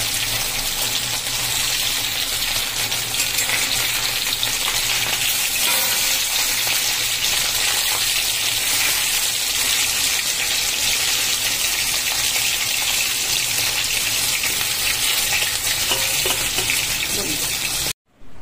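Cumin seeds sizzle in hot oil left from frying fish, making a loud, continuous hissing crackle that holds steady for the whole stretch before cutting off abruptly at the end.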